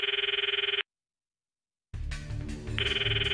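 A phone ringtone sounds in the video game Steins;Gate Elite on Nintendo Switch. A steady electronic ring cuts off into silence, then returns under background game music and rings on.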